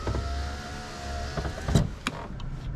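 A 7th-generation Honda Civic front power window motor slowly rolls the glass up, a thin whirring hum that strains along and ends in a few clunks.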